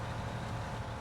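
A tractor engine idles in Farming Simulator 19, a steady low rumble that holds an even level throughout with no talk.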